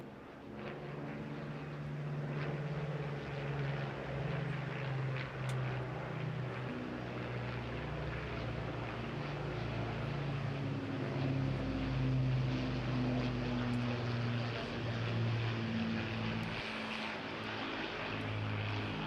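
A Hawker Hurricane propeller fighter flies past at an air show, its piston engine a steady, loud drone with shifting pitch as it passes, continuous throughout with no talk.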